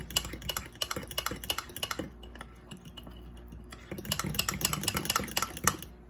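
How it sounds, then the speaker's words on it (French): A spoon stirs Nutella mug cake batter in a mug, giving quick, rhythmic scraping clicks against the sides in two bursts separated by a brief quieter pause. The sound is close and crisp, and no one speaks. "on prend le temps de bien remuer"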